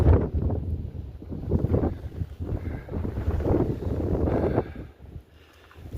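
Gusty wind buffeting the microphone on a mountain lookout along the Appalachian Trail near Curley Maple Gap, rising and falling in loud bursts for several seconds before easing.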